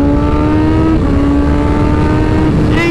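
A car engine revs hard and steadily while racing alongside another small car, its rising and falling harmonic drone loud and continuous throughout, with a brief sharper whine near the end.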